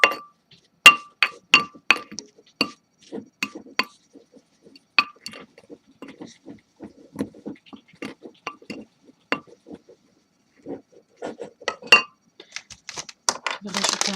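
A coffee grounds body scrub being mixed in a bowl, with light clinks and scrapes of a utensil against the bowl repeating in irregular bursts, near and fairly quiet, some stretches almost silent.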